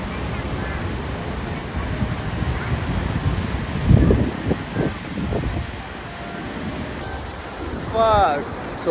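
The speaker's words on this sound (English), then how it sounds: "this is one of the best waterfall in New York" A large waterfall in New York roars as a constant broad rush of water heard close by, with wind buffeting the microphone and brief voices talking over it partway through and near the end.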